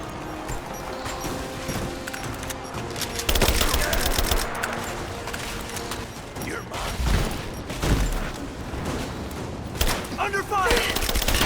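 Gunfire erupts in Rise of the Tomb Raider: bursts of automatic fire and single shots crack in loud clusters over mechanical clatter, with voices shouting in between.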